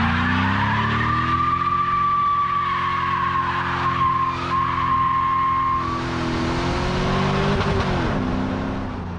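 A modified 1999-2010 Jeep Grand Cherokee drives hard with loud, sustained tire skidding and squealing over a steady engine drone. The engine pitch shifts near the end, with no talking.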